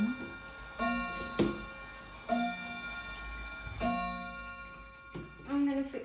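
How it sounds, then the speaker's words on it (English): An atomic clock ticks with sharp, evenly spaced clicks roughly every second and a half, close and moderately loud, with a faint voice now and then. "Here's my atomic clock."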